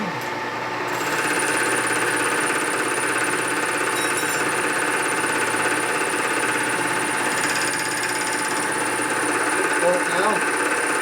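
A machine cuts a 43mm Paioli Brembo motorcycle fork tree being machined for a Dyna XL upgrade, giving a steady, continuous mechanical hum with a faint whine that holds level from start to finish.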